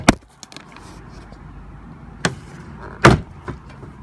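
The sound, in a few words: Mercedes E Class door trim panel clips popping off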